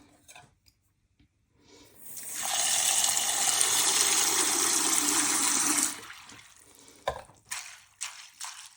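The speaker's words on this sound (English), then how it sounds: "And then literally all we need to do is fill that with water." Water pours steadily into a seed-growing tray for about four seconds in a loud, close rush, then stops, followed by a few light drips and clinks.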